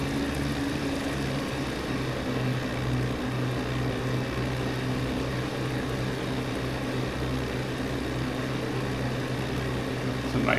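Simulated propeller aircraft engine in Microsoft Flight Simulator over Cape Cod Bay, throttled back for a water landing, a steady droning hum with engine harmonics, continuous and moderately loud throughout.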